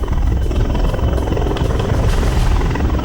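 An army helicopter hovers in the air just above hills, its rotor producing a loud, continuous chopping roar with dense low thumping and broadband wash, steady and close with no speech.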